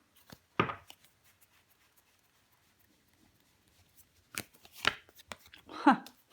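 Tarot cards laid down one at a time on a table, a few soft, brief slaps and slides with quiet gaps between them, close and fairly faint.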